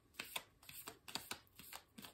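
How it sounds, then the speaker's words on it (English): Tarot cards being shuffled by hand, a quiet close series of about eight crisp riffling bursts in an uneven rhythm, with no speech. "One last shuffle"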